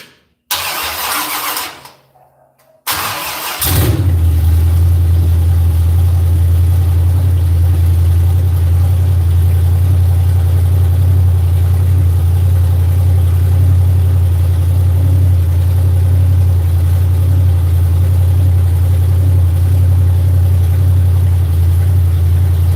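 A car engine in a garage cranks briefly, stops, then catches and settles into a loud, steady idle that runs on continuously, with strained cranking at the start.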